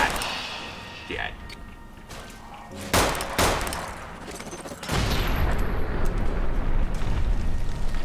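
Grenade bouquet trap detonating in the game Fallout New Vegas: a sharp blast near three seconds followed by a sustained, loud roaring burst of noise that fills the second half, with a brief thud earlier on.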